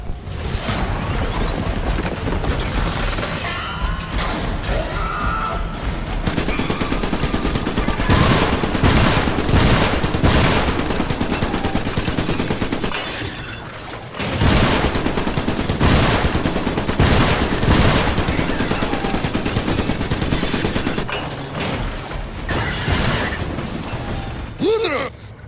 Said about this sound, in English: Shotgun turret inbound to your location.